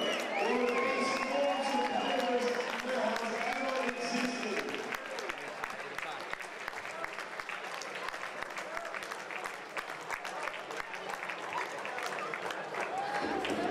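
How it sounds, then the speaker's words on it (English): Audience at an Irish Open dance championship night breaks into sustained applause, dense and steady throughout, with cheering voices and shouts mixed in over the crowd. "Can we please have a standing round of applause for Mr. Tyler Weaver?"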